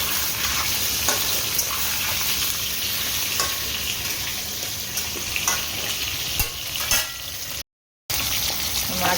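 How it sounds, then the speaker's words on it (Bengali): Fish frying in a pan in a home kitchen, a steady crackling sizzle with occasional stirring clicks, fairly close and continuous with a brief dropout near the end. "মাছ ভাজা হচ্ছে"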